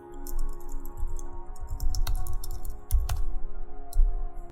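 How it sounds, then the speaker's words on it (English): A computer keyboard clicks under quick typing, with scattered light keystrokes in short bursts over a low background hum. "you can easily change your text by simply typing some new text on your keyboard"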